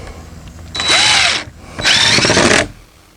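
Power drill driving screws into a wooden fence during a repair, two close loud bursts of whirring under a rising motor pitch, each about three quarters of a second long, with a quiet gap between them.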